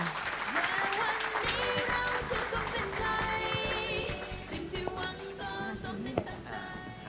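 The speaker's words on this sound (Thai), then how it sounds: "ขอเสียงปรบมือต้อนรับด้วยนะครับ" A hall audience at a Thai business talk for young people claps to welcome a guest executive speaker, with steady, dense applause sustained throughout under music and voices.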